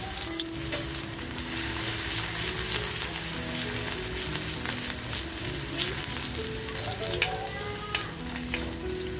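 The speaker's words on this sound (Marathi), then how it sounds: "लसूण बघा अशी मस्त तेलामध्ये खमंग फ्राय झाली." Crushed garlic sizzles steadily in hot oil in a kadhai over a full flame, for a Malvani-style bombil rassa. The frying hiss is close and continuous, with a few brief crackles and pops.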